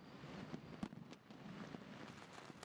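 Fireworks sound effect from a Kahoot game screen: a quiet, steady stream of crackling pops and bursts with no talk over it.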